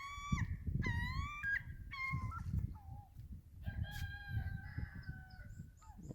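A chicken crows and clucks at a waterfront compound on Hammersley Inlet in Shelton, Washington, with repeated bird calls over a low, rumbling background. Other birds chirp faintly alongside.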